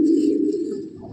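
An old pigeon gives one close, loud, throaty coo that rolls on as a low warbling hum and fades slightly toward the end.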